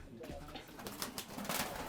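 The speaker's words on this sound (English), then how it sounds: "the Lahore pigeon" A Lahore pigeon coos softly and low under steady background noise, in a short murmur with no clear talk.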